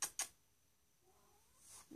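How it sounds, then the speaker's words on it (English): A black and white cat gives a couple of short, faint meows, then a quiet, drawn-out mewing call, in a quiet room. "Speaking of black and white cat, he just walked in the room."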